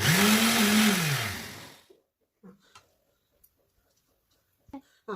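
A mixer grinder whirs loudly for under two seconds as it grinds a paste of green mustard seeds, its motor pitch rising and then falling, followed by a few faint clicks and taps in the quiet kitchen.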